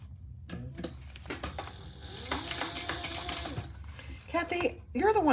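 A sewing machine top stitching a Pebble Mini Sling, running in short bursts of rapid mechanical stitching with pauses between, while a person talks over it.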